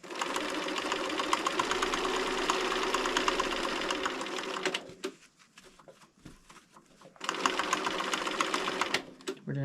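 Sewing machine stitching quilt binding, two bursts of steady fast mechanical whirring and needle clatter separated by a short pause with faint rustling, fairly close.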